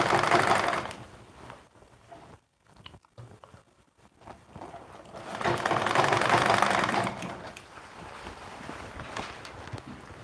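An electric sewing machine stitches skirt pieces in two fast bursts of rapid mechanical whirring, each a few seconds long, with quieter handling and fabric shuffling in between.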